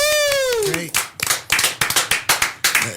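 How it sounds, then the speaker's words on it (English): A small group at a university student talk show claps in a quick burst after a voice cheers, the hand claps sharp, close and unevenly spaced, fading and restarting in short bunches. "Can we hear a round of applause for that?"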